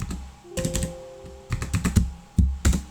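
Computer keyboard keys pressed and clicked in several quick bursts, close and clear, while entering shortcuts to set up automation in Automatic Mouse and Keyboard software.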